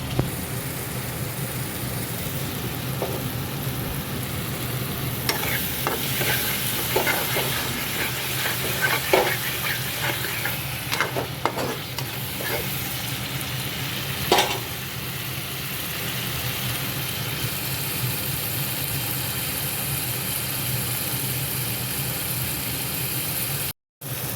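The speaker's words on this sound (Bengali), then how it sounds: "আর এটাকে কন্টিনিউ নাড়তে হবে যতক্ষণ না মশলা থেকে তেল হয়ে যাচ্ছে" Spices stirred and fried over a high flame in oil for a pomfret fish curry, a steady sizzle with repeated scraping strokes of the spoon, close up and with no talk.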